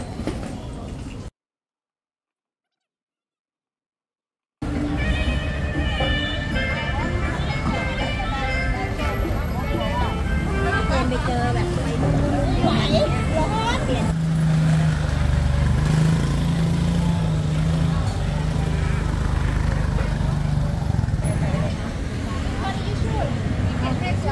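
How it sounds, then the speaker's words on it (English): A Ducati Monster motorcycle with dual exhaust runs in a Bangkok street, its engine droning steadily and loudly for most of the clip after a brief silent gap, with people talking over it. "Dual exhaust, Ducati Monster."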